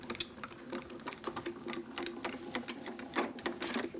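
Die-cutting machine cranking cutting plates through, a continuous close mechanical whirr with a steady clicking, ratcheting texture and a faint underlying hum throughout, no talking.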